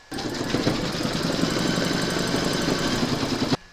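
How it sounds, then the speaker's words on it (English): An embroidery machine stitches a pink satin stitch around a rabbit's mouth on a drawstring bag, a steady fast mechanical whirring and needle chatter that starts abruptly, runs evenly for about three and a half seconds, then stops. "Load your thread colour for the satin stitch around the rabbit's mouth into your machine and then you're going to stitch round number 14"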